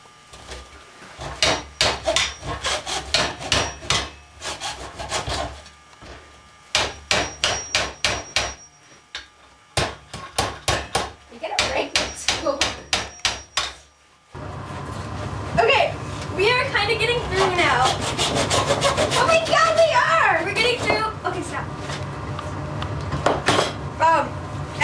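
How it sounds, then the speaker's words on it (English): A hard plastic Barbie doll body being sawed and hammered: bursts of sharp hammer knocks in quick clusters with short pauses, then a sustained rough rasping of sawing through thick plastic, with a voice talking over it. "now we're going to try sawing and hammering at the same time into Barbie"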